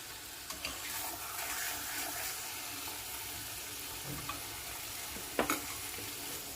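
Pointed gourd with poppy seed paste is stirred gently in a pan for a Bengali vegetarian dish, with soft continuous sizzling, faint scraping and one louder utensil knock near the end, no speech.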